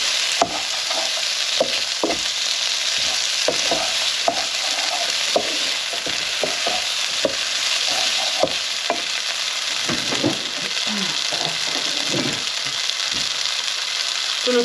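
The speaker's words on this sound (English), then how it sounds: "I'm going to get these tomatoes softened just a little bit." Tiny tomatoes sizzle steadily in a hot frying pan while a utensil stirs and taps against the pan in irregular knocks, close and fairly loud, with no talking.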